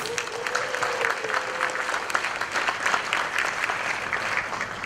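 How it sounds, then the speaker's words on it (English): Toastmasters audience in a meeting room applauding, a dense, steady wash of many hands clapping at even loudness throughout, with a faint tone running under the start. "So please give yourself a round of applause"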